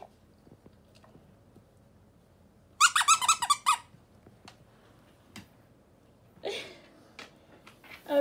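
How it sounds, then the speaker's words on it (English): A dog working a plush squirrel squeaky toy, giving a quick cluster of sharp squeaks, then quiet rustling and a second, softer run of squeaks near the end. "So you think it's one big squeaky toy."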